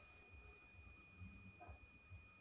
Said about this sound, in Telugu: మనం ఎప్పుడైతే ఈ 2 ప్రోబ్స్ని ఈ విధంగా టచ్ చేస్తామో ఈ విధంగా బజర్ సౌండ్ అయితే వస్తుంది.